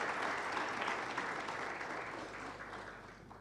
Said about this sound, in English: Let me ask the URA team to clap for you.